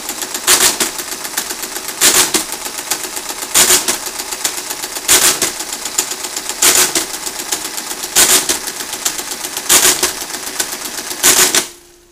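A Friden Model D mechanical calculator dividing, its gears clattering in a loud continuous mechanical whir punctuated by heavier rhythmic clunks about every one and a half seconds, then winding down at the end.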